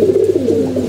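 Domestic pigeons coo in soft, low rolling notes, several overlapping calls close by within a brief moment, with no talking.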